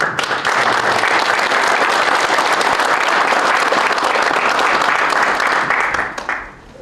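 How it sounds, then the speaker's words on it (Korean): Loud, dense audience applause fills a defense industry meeting hall honoring the defense acquisition agency chief, sustained for about six seconds before tapering off at the end. "큰 박수"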